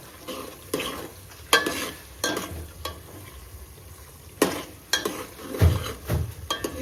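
Cumin, onion and asafoetida fry in oil in a home kitchen pan, a soft sizzle under repeated scraping and clinking stirs of a spoon against the pot, close and irregular.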